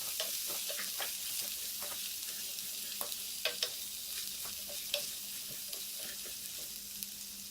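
Long-sliced onions fry steadily in hot ghee in a pan for a Kerala-style biriyani, giving a constant bright sizzle broken by a few soft stirring scrapes, with no talking.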